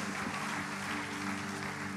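A church congregation claps together in a steady, dense wash of applause that fills the room, with no voices standing out.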